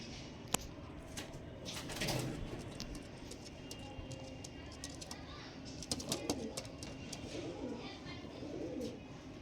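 High-quality pigeons coo in low repeated murmurs amid scattered clicks and fluttering knocks, with a voice talking at times over the birds.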